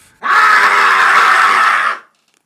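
A man screams at the top of his lungs in one sustained, loud, harsh cry lasting nearly two seconds, then stops abruptly into silence.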